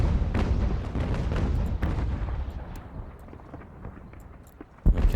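Cannon and mortar artillery fire from the Ultimate General: Revolution strategy game, a dense rumbling barrage of overlapping booms and thuds that gradually thins out, with a sharp blast near the end.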